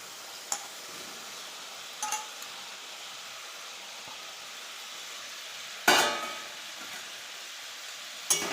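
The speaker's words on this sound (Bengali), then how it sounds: "এবার মশলার উপরে বেগুন আলু ভাজাটা আমি দিয়ে দেবো।" Fried eggplant and potato added to masala in a pan, with a soft continuous sizzle broken by a few clinks and one louder scrape or clatter near the end, close by and without speech.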